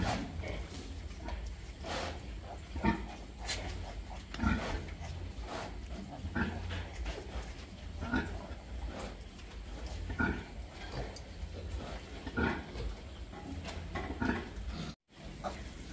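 A sow grunts repeatedly while farrowing, partway through delivering a large litter of piglets, with low snorts and grunts spread through a busy pen and continuous background noise.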